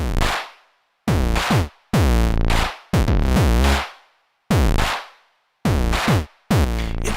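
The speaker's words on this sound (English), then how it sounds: "The square wave sounds like this." A synth square-wave sub tone in a run of about seven loud, separate, buzzy notes with falling low sweeps and short gaps between them, heard alone.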